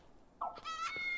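A cat in the video game Fantasian lets out a single short rising meow, followed by a bright sustained game music tone.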